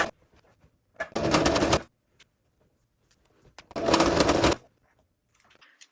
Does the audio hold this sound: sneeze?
no